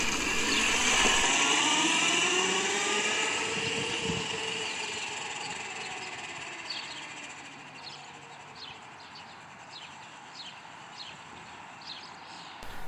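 A Subaru Sambar minivan drives past outdoors, its small engine loud and close at first, then fading into the distance while the revs rise and fall through several gear changes, with birds chirping faintly in the background.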